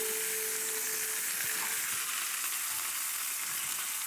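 Passata, a tomato puree, sizzles steadily in a hot pan as it is added to become a sauce, a loud continuous frying hiss with faint stirring clicks and no voices.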